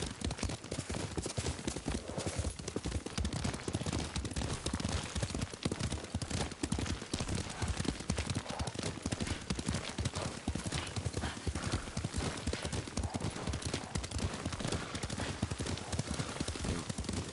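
A horse in the Ghost of Tsushima video game clip-clops with continuous, rhythmic hoofbeats at a steady gallop. The sound is dense and close, with an occasional whinny mixed in.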